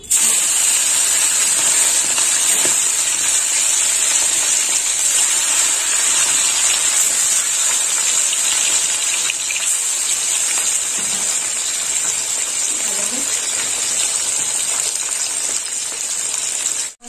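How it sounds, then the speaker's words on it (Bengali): Bata fish seasoned with salt and turmeric frying in hot oil, a loud, dense, continuous sizzling hiss that stays steady and close throughout with only faint clatter beneath. "তেল গরম হয়ে গেছে, এবার মাছগুলো দিয়ে দেবো।"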